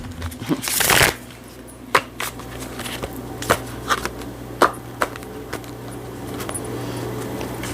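A deck of playing cards is shuffled and riffled close up, one loud burst of rapid flutter followed by a scatter of soft clicks and slides against a low steady hum.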